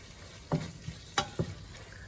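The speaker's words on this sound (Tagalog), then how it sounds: "Halo-halo nyo na mabuti." Baked spaghetti sauce is stirred in a pan with a utensil, giving a few distinct scraping strokes and light clacks over a soft, quiet sizzle, with no talking.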